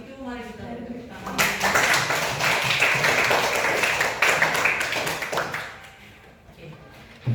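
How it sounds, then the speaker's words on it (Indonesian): Audience applause and clapping at a group gathering, a dense sustained burst starting after about a second and running several seconds before fading, with speech around it. "Kalau gitu mari kita tepuk tangan."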